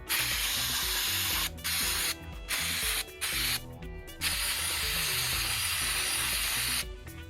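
Close aerosol spraying of cleaner onto a SAAB 9-5 engine sensor in repeated long hissing bursts, separated by brief pauses, with a steady low mechanical hum underneath.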